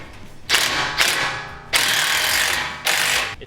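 A ratchet tightens the bolts of a Razorback offroad expedition roof rack in four bursts of rapid clicking, each starting sharply and tapering off.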